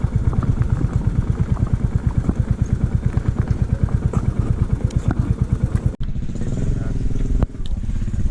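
An Enfield motorcycle engine putters steadily up close with an even, rapid thumping beat, then drops to a softer, rougher running sound near the end.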